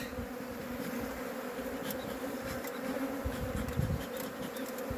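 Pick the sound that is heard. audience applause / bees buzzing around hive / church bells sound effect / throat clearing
bees buzzing around hive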